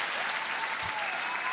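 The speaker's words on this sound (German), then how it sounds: "Ja, Applaus für Ali heute Abend." A comedy show audience applauds, dense steady clapping filling the room at a constant loudness throughout.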